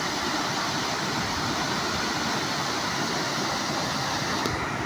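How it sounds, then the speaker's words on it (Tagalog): Strong river current rushing beneath Mayo Bridge in New Bataan, Davao de Oro, a steady, dense broadband roar of fast-moving water that holds constant and fairly close throughout. "malakas yung agos ng tubig"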